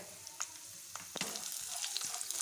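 Peanuts, cashews, dried and green chilli with curry leaves frying in oil in a pan for wheat rava upma, a steady close sizzle with a few sharp stirring clicks and scrapes, no talking.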